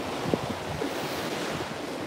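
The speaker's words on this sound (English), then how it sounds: "There goes the wind again." Steady outdoor wind blows across the microphone in a continuous, fairly faint roar with no talking.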